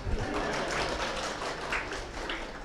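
Audience at a university talk in Indonesia gives a soft, steady round of applause, a diffuse patter of many hands heard at moderate distance.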